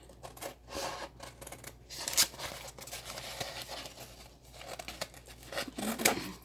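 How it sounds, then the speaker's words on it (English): Scissors cut a vinyl design away from its sheet, giving crisp, irregular snips and crinkling rustles of the vinyl and contact paper, close up and with no talking. "Cut your design off away from the sheet"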